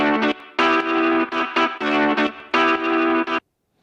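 A guitar part from an Afro House mix, heavily processed with distortion, chorus and effects, plays a few bright, dense chordal stabs in short rhythmic bursts before cutting to silence.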